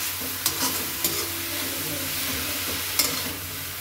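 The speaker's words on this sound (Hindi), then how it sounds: "ये जो है हमारा दुधिया जो है फ्राई हो चुका है" Bottle gourd frying in ghee in a pan, stirred now and then, with a steady soft sizzle and a few sharp scraping clicks from the spoon. No one speaks.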